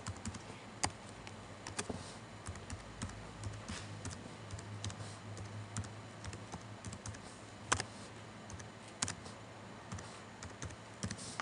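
Computer keyboard typing an email and password, with scattered irregular key clicks and a few sharper taps over a quiet room background.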